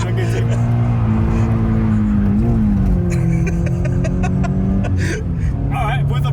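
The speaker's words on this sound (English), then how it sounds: "with a bit of clutch kicking you can convince any car to go sideways in the wet" A Toyota GT86 boxer engine drones steadily while the car is drifted sideways on a wet track with clutch kicking, its tone rising and falling slightly under continuous close talk.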